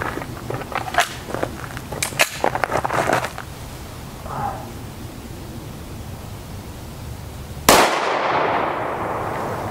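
A 5.7x28mm firearm loaded with 32-grain ammunition fires a single loud, close shot into bare ballistic gel. A few light handling clicks come first, then the sharp crack, which rings out and fades.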